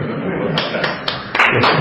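Students in a class clap their hands several times in short, separate claps over continuous noise from the room.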